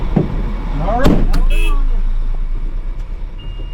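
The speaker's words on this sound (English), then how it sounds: "Chris now on the move in the HA 45 articulated dump truck." A Hyundai HA45 articulated dump truck on the move in a construction equipment sprint competition, its low engine rumble running steadily underneath a voice talking over it.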